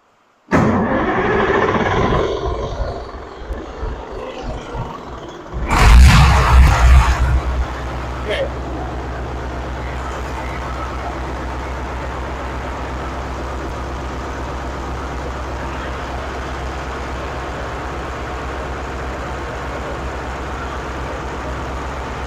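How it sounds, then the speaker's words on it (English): A Massey Ferguson 1150 tractor engine cranks and then settles into a steady, loud, low diesel rumble that runs on continuously, with people talking over the starting attempt. "We got enough throttle to start."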